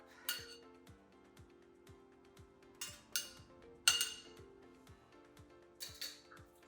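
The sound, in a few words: serving cooked collard greens from the pot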